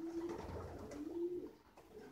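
Racing pigeons of a Barcelona-winning line cooing in a pigeon loft, a faint close coo repeated twice in quick succession against soft background rumble.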